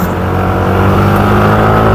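A CVT-type motorcycle engine runs steadily up close, a loud continuous drone with a low rumbling hum and no variation in pitch, heard alone without voices.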